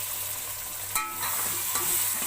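Chili and tomato masala stirred in a pan for a bitter gourd dish, with a steady low sizzle and a couple of scraping stir strokes, close and moderately loud, with no talking.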